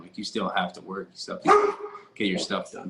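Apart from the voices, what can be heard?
dog barking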